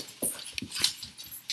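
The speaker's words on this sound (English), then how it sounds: "Those are the crazy dogs." Dogs whimper and give low growls in short, uneven bursts close by, with scuffling movement between the sounds.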